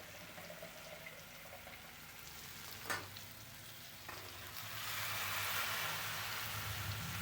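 Soaked chana dal sizzles quietly in a pan as it is stirred, a faint hiss with a couple of sharp scrapes, then the frying noise rises louder and steadier near the end.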